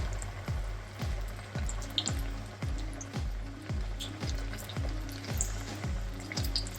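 Masala vada fritters frying slowly in hot oil on low flame, a steady close bubbling sizzle with soft rhythmic crackles running throughout.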